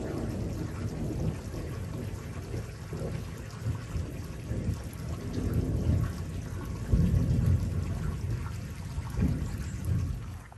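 Low rolling thunder rumbles on and off through steady rain on a durian farm in Thailand, swelling louder near the end with no talk.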